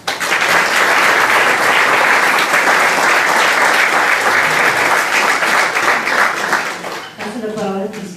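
Sustained audience applause at a community volunteer-service gathering, loud and dense clapping holding steady for about seven seconds before thinning and fading, with a voice starting to speak near the end.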